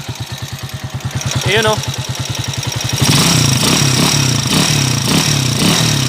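Honda TMX155 motorcycle with a 175cc conversion idles close by with a steady rapid ticking clatter, then revs up louder and rougher; someone talks over it.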